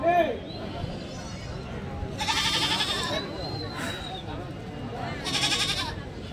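Goats bleat at the Kadiri goat market, held every Tuesday, with a few loud, drawn-out calls standing out over a crowded, noisy background.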